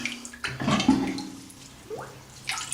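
A Neck Buddy cooling scarf is lifted out of water, giving a brief splash and dripping trickle, close and moderately loud, then quiet drips.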